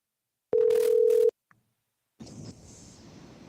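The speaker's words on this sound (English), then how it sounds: "Let's have the ringtone go through" Telephone ringtone heard over a radio broadcast call line: one loud, steady electronic tone burst of under a second, a tiny click, then a noisy line hiss and connection sound picking up.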